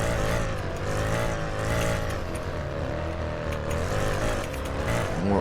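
A tuned Mercedes GT63S on a racetrack drones with a steady, loud engine note under acceleration, holding a constant roar for the whole stretch without speech.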